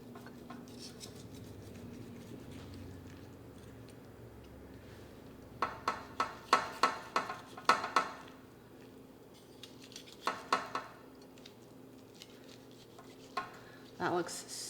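A roast Thanksgiving turkey with crispy golden skin being carved: after a quiet start, bursts of rapid knife sawing and scraping through the bird against a board or platter, close and moderately loud, with faint murmured talk early on.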